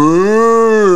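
A single cow gives one loud, close, sustained moo lasting about a second, with a rich harmonic tone and no other sounds around it.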